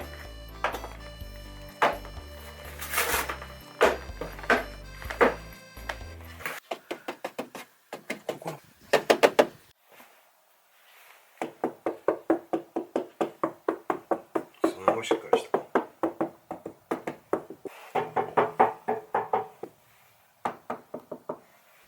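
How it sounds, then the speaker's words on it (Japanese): Repeated knocking and tapping on a Toyota Vitz RS Turbo's inner fender panel, treated with deadening material, sharp close thuds in uneven bursts and rapid series, with brief quiet gaps. "じゃあインナーフェンダー戻していきましょ う。"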